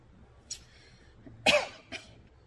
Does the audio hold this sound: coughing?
yes